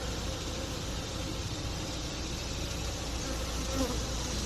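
Honey bees buzz inside an established hive during fall queen installation, a dense, even drone of many wings held close and steady throughout with no talking.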